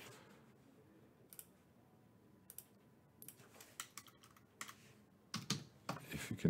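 Fingers type quietly on a computer keyboard, giving sparse, irregular clicks that grow busier and louder toward the end into a quick burst of keystrokes.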